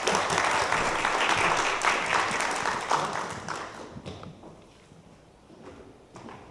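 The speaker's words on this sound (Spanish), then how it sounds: "Un aplauso para Fernando." A conference audience gives sustained applause at a literary-legacy lecture, a dense clapping wash that holds strong for several seconds, then thins and fades to scattered claps and room noise.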